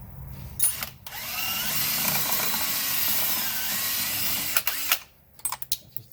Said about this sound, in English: I'm going to drill out that clamp that's holding that air line.